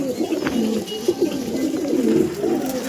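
Restless pigeons being handled at a home loft, with steady cooing and low rustling, soft and close, without pauses.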